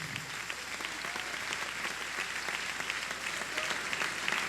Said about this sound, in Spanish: Dele un aplauso al Rey.